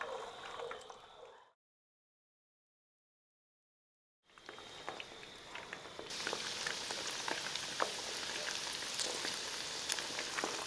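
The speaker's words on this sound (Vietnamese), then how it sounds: "mình cho sườn vào chiên lần thứ hai với lửa trên trung bình một chút" Oil sizzles and crackles steadily as pork ribs deep-fry, broken by a few seconds of silence before the second frying over medium-high heat resumes louder and busier.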